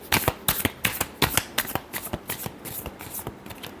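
Tarot cards are shuffled in quick, crisp riffling bursts, a close, continuous flutter of slaps and snaps with no talking.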